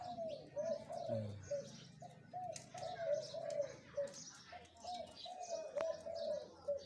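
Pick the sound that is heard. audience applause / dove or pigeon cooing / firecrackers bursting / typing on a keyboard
dove or pigeon cooing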